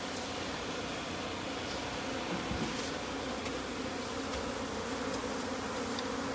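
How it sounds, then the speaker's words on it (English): Angry bees swarm from a 15-year-old hive as they are brushed off, a dense, constant buzzing drone close to the microphone with no talking. "We got bees coming out our ears."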